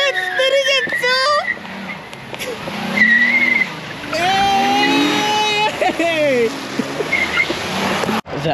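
At a car meet, a car spins its tires with rising engine revs and wavering tire squeals, loud and close amid crowd shouting and cheering, the squeal swelling and fading over several seconds.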